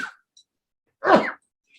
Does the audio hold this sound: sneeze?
yes